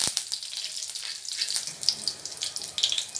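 Mustard seeds and urad dal crackle and sizzle in hot oil in a pan, a bright spattering hiss with scattered sharp pops, close and fairly loud with no talking.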